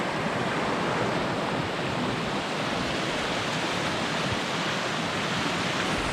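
Steady rushing water along the Mt. Flume hiking trail in New Hampshire, a loud, continuous broadband roar like a stream or falls running close by, unbroken for the whole stretch with no talking.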